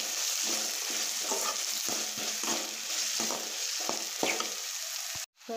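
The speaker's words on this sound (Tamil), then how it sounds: "வெங்காயம் நல்லா இப்போ ப்ரௌன் கலராக வதக்கிக்கலாம்" Steady sizzling of onions frying in a pan, with occasional scraping stirs, continuous throughout and ending with a short cutoff.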